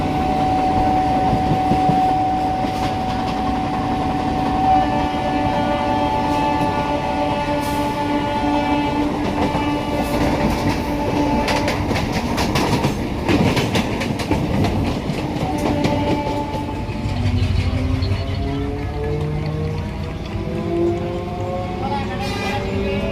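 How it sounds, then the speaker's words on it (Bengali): Two Goghat local trains race side by side between Howrah and Haripal. The ride is a loud, continuous rumble of wheels and rail clatter, with sustained horn tones and voices underneath, and the train slows toward a station. "এই রেশারেশির মধ্যে দিয়েই এসে পৌঁছালো দুটো ট্রেন রিস্টা স্টেশনে"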